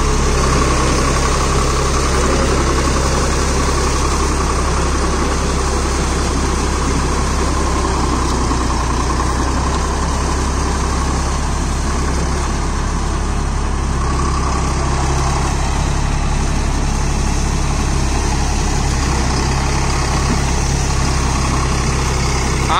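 A Swaraj 963 FE CRDI tractor engine runs steadily at about 1500 RPM while puddling with a rotavator, a loud, even low drone with mechanical rattle throughout, no voices.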